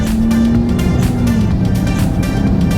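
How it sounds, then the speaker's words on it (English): A Mercedes-Benz GLS 450 accelerates, its engine note rising smoothly under a steady loud road rumble as the turbo spools, heard from inside the vehicle. "you just hear the turbo spooling on this vehicle"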